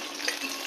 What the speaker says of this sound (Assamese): এতিয়া মই অলপ নাগেটছ ফ্ৰাই কৰিম